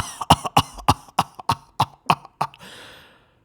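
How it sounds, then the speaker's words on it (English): A man coughs up mucus in an audio drama, about ten sharp, wet coughs in a rapid irregular burst, loud and close, ending in a fading breathy rasp. "He coughs up."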